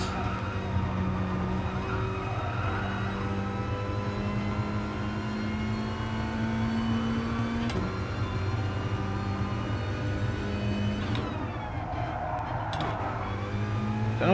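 A Gr.4 race car in the video game Gran Turismo Sport droning steadily at moderate volume, with engine pitch stepping down as it downshifts and a faint tyre slide near the end.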